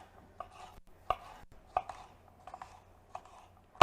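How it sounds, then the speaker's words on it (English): Knife chopping green beans on a cutting board, a handful of sharp, separate thunks spaced irregularly, close and fairly quiet against a still room. "We're just going to give these beans a little chop."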